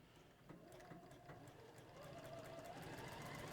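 Sewing machine stitching fabric, a steady continuous mechanical whir with rapid needle ticking that builds slightly toward the end, close and alone without talk.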